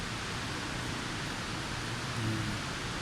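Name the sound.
rain at evening, recorded from 30th floor of a building in Kuala Lumpur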